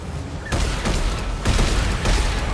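Weapon fire in the co-op game Dead Space 3, shooting at enemy tendrils: loud, dense bursts of shots land in three heavy waves over a constant rumbling din.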